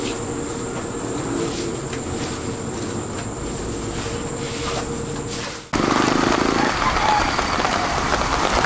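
Light rain falling beneath a bridge in the Philippines, a steady hiss of drops on surfaces with a faint tone in the background, then an abrupt jump to a louder, brighter wash of rain.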